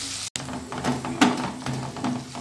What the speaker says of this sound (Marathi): आता आपण हे सगळं परतवून घेऊया व्यवस्थित